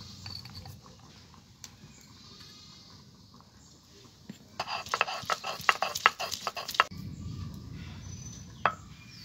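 Soaked cashews for a Maharani cabbage curry are ground into paste, with a burst of rapid, close scraping and grinding strokes in the middle of an otherwise quiet kitchen.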